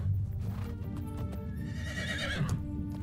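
Shadowfax the horse in the LEGO Lord of the Rings video game giving a loud, drawn-out whinny over a steady background of game music and rumble, with faint hoofbeats.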